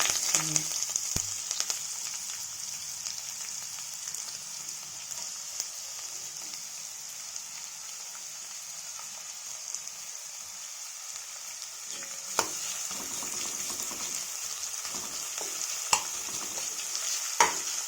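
Steady, hissing sizzle of onions frying in oil with curry leaves for a masala gravy, with occasional scraping and clinks of a spoon stirring the pan.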